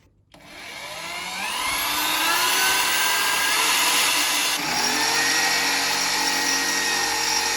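A power drill bores a hole for mounting a small pump on a DIY build, spinning up quickly into a loud, sustained whine that holds steady with a brief pitch shift partway through.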